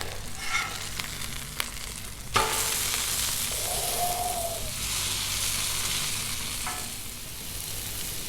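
A steak sizzles on a Blackstone griddle just after being flipped, a steady close frying hiss with a sharp scrape and clatter early on and no talking.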